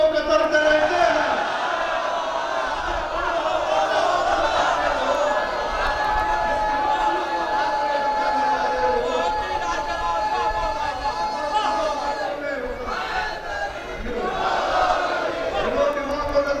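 Crowd at an annual majlis gathering in Jogipura, people raising religious slogans together in loud, sustained chant-like voices that fill the room, with swells of group shouting throughout.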